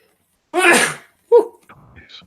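A single sharp sneeze close by, followed by a quick short exhale and faint murmured sounds.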